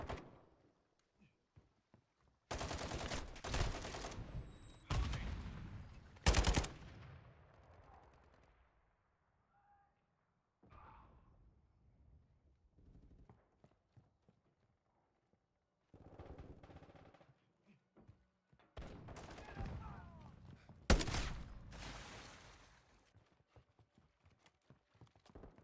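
Bursts of video game gunfire in a tactical shooter, loud volleys at around 3, 6 and 21 seconds, separated by quieter stretches with faint scattered shots and low background noise.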